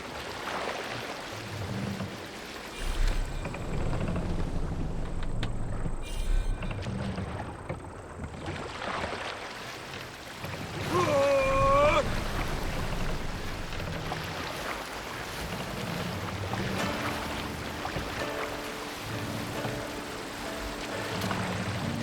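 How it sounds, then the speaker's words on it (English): Wind at sea in Assassin's Creed Valhalla blows in a continuous rushing gust around a Viking longboat, with water sloshing against the hull and a brief tonal game cue partway through. "This wind would fill the sail."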